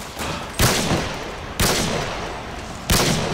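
Gunfire in a shooter video game: three sharp, loud shots land about a second apart, each trailing into a long rumbling reverberant decay over continuous battle noise.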